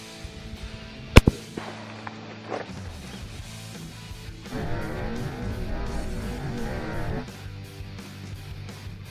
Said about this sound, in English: Here goes the shot with the 30-30 here.